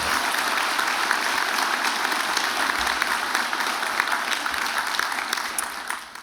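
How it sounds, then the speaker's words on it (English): Sustained applause from the audience at a spring convocation ceremony, a full, even round of clapping that carries on for several seconds before tapering off at the close. "can we give them a round of applause for that"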